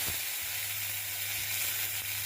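Ground cumin spice paste sizzles in a hot pan with a steady, close frying hiss, no voices.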